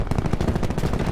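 Rapid pistol gunfire in the video game Black Ops 4, a fast run of loud, close, evenly spaced shots filling the short stretch without pause.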